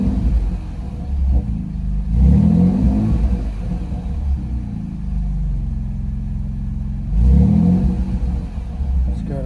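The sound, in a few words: pickup truck turbo engine exhaust revving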